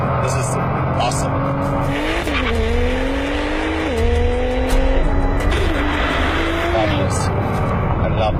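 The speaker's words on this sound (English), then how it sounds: "It's a Nissan GTR Sparta." A Nissan GT-R driving fast on a track, its engine droning with shifting pitch as gears change and tires squealing, heard loud and close throughout.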